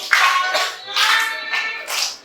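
Children clapping their hands during a classroom ice-breaking game, several bursts of clapping in an uneven rhythm, loud and close, with no voices over them.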